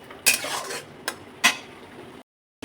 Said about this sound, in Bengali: মশলাটাকে কষাতে হবে যতক্ষণ না মশলা থেকে তেল ছাড়ছে।